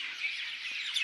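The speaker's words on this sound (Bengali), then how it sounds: "কাছের শব্দ, পাখি শব্দ শোনা যাইতেছে।" Several birds chirp and tweet near a hill road at Baghaihat, with thin high calls over a soft steady background, fairly close and without talk.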